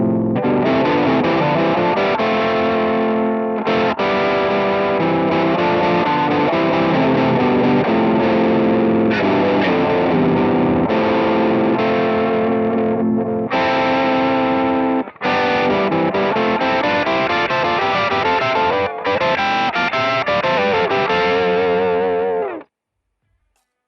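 Guitar played through a TC Electronic Quintessence harmonizer pedal set to a third-plus-sixth harmony in A natural minor, a dense, sustained, loud stacked-voice tone with brief gaps between phrases, ending abruptly.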